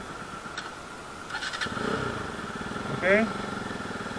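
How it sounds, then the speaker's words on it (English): Motorcycle engine started and left idling, a low steady rhythmic putter that swells briefly with a short rev, close to the microphone while someone speaks over it. "ngayon, pandarin na natin yung ating motor"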